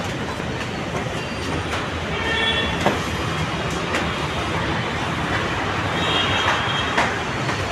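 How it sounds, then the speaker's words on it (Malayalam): A Kochi metro train pulls into the platform with a loud, sustained rumble of wheels on rail, rising slightly midway, with faint high squeals and clicks and no talk. "അപ്പം ഗൈസ് നമ്മൾ മെട്രോയിലോട്ട് കയറാൻ പോവുകയാണ്."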